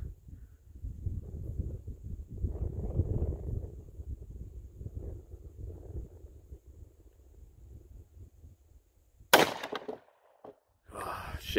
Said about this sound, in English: We're gonna shoot this 2x4 first.